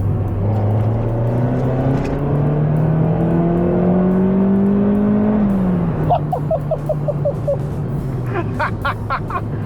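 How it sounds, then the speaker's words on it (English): A car engine revs hard through the gears, its deep intake roar rising in pitch, then dropping as it shifts, with sharp crackles and pops near the end. "This thing makes such a massively amazing intake noise."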